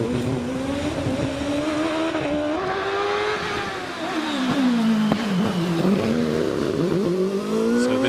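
OMS 3000M hill climb racing car in the 1.1 litre class at Prescott, its engine revving hard and shifting through gears as it climbs, loud and close throughout with rising and falling pitch.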